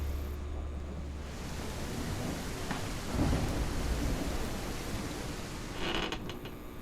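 Heavy rain pours steadily in the Clawed demo near a museum, with rolling thunder rumbling low and loud through the dense downpour and no talking.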